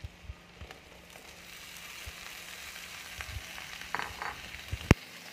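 Potatoes frying with onion in a pan, a steady close sizzle with occasional stirring scrapes and a sharp clink near the end, no talking.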